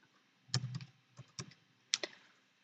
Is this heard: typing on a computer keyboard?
yes